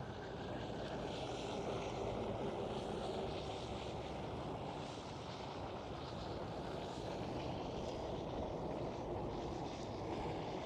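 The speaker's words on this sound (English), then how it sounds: "KLM Cityhopper E195 E2." A KLM Cityhopper Embraer E195-E2 jet at Schiphol airport in Amsterdam gives off a distant, steady broadband roar with wind noise, faint and continuous throughout, no voices.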